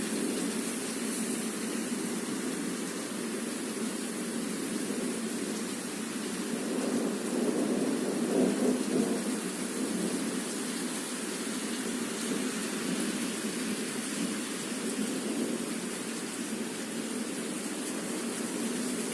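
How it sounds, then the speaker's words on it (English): Steady, dense rain pours down in a constant broad hiss, swelling slightly midway, with no voices. "Pouring rain."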